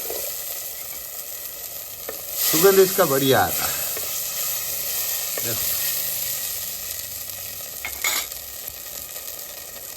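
Turiya (ridge gourd) sabzi sizzling and being stirred in a clay pot, a steady close frying hiss with a louder stirring burst, while someone talks over it.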